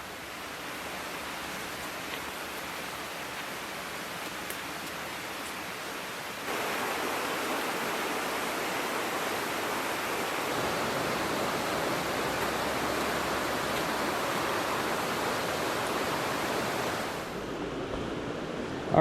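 A creek runs steadily, a continuous rushing wash of moving water during a fly fishing outing in Madison County, New York. The flow stays fairly loud throughout and swells slightly partway through.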